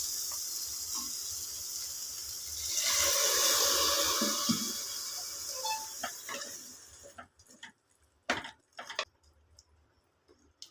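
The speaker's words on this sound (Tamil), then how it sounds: "இப்போ நம்ம கொஞ்சம் லைட்டாக தண்ணி ஊற்றிக்கலாம் வதங்குறதுக்கு" Water poured lightly into a frying pan of sautéing masala for white chickpea biryani, a brief loud sizzling hiss building near the mic, then scattered clinks and taps of stirring as the sizzle dies away.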